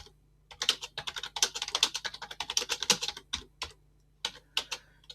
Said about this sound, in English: So now you basically start typing whatever text you have to type.